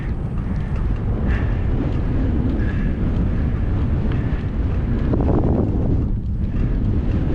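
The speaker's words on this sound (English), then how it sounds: "Lots of uphill against the wind here." Steady, loud wind buffeting a microphone while a cyclist pedals uphill against a headwind near Camp Howze and Gainesville, Texas, a continuous low rumble filling the whole stretch with no talk.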